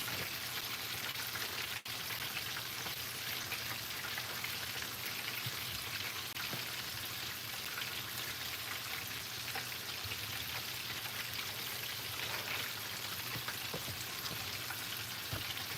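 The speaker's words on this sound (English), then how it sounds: "I'm doing like fried plantain chips and some potato wedges" Plantain chips and potato wedges frying in hot oil give a steady, dense crackling sizzle that carries on evenly throughout, close by and without speech.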